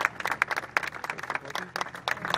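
A crowd applauds at a street naming ceremony honoring a public health figure in Berazategui, a steady wash of many hands clapping with sharper individual claps standing out, fairly close and continuous throughout.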